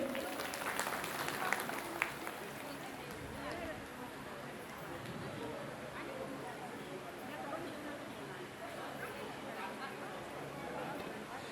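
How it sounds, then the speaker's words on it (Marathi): A crowd at a family felicitation ceremony claps for the Undi family, a fairly faint, steady patter of many hands mixed with background chatter, continuing evenly throughout. "एक तर संपूर्ण उंडी परिवारासाठी एक जोरदार टाळ्या झाल्या पाहिजेत"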